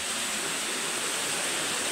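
River in a province of Negros Occidental, a steady broadband rush of flowing water, close and continuous with no voices.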